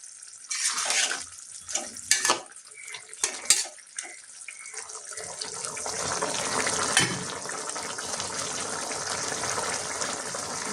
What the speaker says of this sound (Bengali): এখন একটু জল দিয়ে দিব, পরিমাণ মতো জল দিয়ে দিলাম।